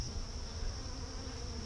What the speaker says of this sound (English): The bees are definitely starting to wake up here